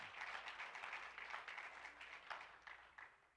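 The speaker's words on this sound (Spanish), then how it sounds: "aplauso fuerte para el Señor." A church congregation claps during a sermon, a faint, distant patter of applause with irregular swells that continues steadily for a few seconds.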